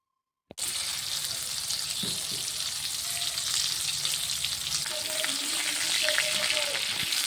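Pointed gourd (potol) pieces frying in oil: after a brief silence, loud steady sizzling begins suddenly and goes on close up, with a few stirring knocks.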